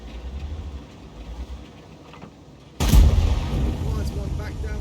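A heavy Object 277 tank cannon in a video game fires once with a sudden loud blast, followed by a sustained rumbling roar after a quieter stretch of engine noise.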